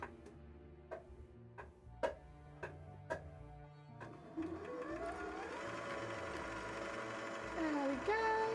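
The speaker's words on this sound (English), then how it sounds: "I've been doing that with the sewing machine with this particular colour" A sewing machine stitching embroidery on cosplay work: a few slow single ticks as the needle steps, then a rising motor whir that settles into fast continuous stitching, close and fairly loud.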